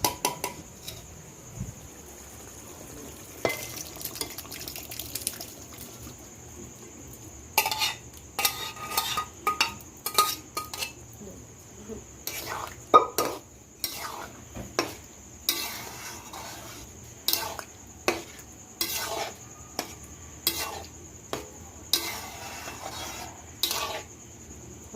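Spiced mixture poured into a kadai of boiled peas and potatoes for ghugni, then stirred, giving repeated metal spoon scrapes and clinks against the pan in an irregular rhythm, close and fairly quiet.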